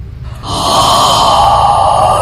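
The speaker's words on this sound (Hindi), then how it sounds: "वो सांसों की आवाज, वही आवाज" Eerie breathing sound effect in a Hindi horror story: a sharp inhaled gasp swelling into a long, loud, hollow breath that holds steady and close.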